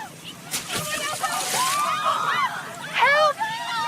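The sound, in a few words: splash of boy falling into a creek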